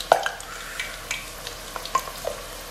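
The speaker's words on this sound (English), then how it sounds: "fry slowly because you don't have to be burned" Manchurian chicken frying slowly in a pan, a low steady sizzle with a few soft clinks and scrapes of stirring, one sharper tap at the start, fairly quiet throughout.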